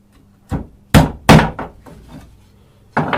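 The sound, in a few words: hammering nails into wooden beehive frame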